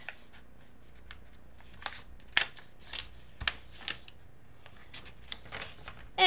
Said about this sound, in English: folding the paper in half to make a rectangle shape